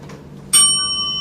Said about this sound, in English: After the speaker has spoken for 4 minutes, the bell will ring like this.